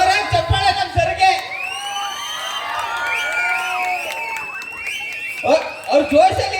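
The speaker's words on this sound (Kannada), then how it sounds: "ಒಂದ್ಸತಿ ಜೋರಾಗಿ ಚಪ್ಪಾಳೆ ನಮ್ ಸರ್ಗೆ." An audience at a live comedy show claps, cheers and lets out rising whistles and whoops, with bursts of applause at the start and end and voices mixed into the crowd noise.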